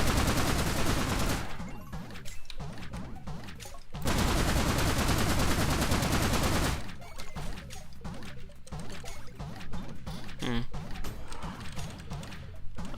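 Automated turrets firing in the Forager game, bursts of rapid crackling shots in two loud stretches, with quieter stretches of softer pops and a voice talking over them.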